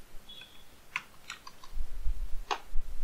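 Computer keyboard keys clicked in a few short bursts, crisp and close, with a low rumble of handling underneath and no voices.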